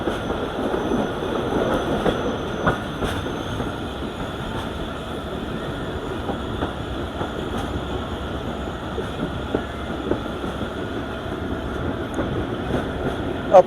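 Marvi Express passenger train rolling along the rails on its first run back in Pakistan, a steady broadband rumble with faint wheel clicks and clatter throughout, heard from on board.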